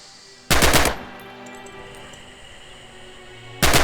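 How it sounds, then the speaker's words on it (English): Blind-fire gunfire in Red Orchestra 2: Heroes of Stalingrad: two loud, short automatic bursts, one near the start and another at the end, with a quiet lull between them and no talking. "Use blind fire now and see what you can hit."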